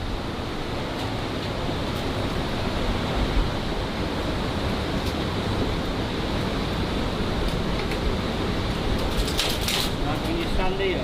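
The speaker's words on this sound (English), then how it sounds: "Sounds like there's a big stream of water behind the wall." A big stream of water rushes behind a wall beneath old Victorian arches, heard as a steady, even hiss of flow that stays constant throughout at moderate loudness.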